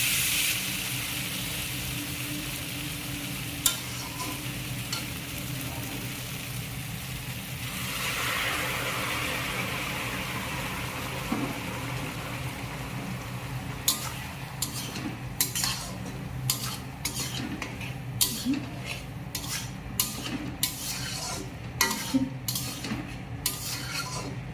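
Masala curry sizzling in a pan with water just added, with a steady frying hiss under clinks and scrapes of a spoon stirring against the pan that grow sharper and more frequent toward the end.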